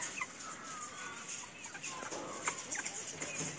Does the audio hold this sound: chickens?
yes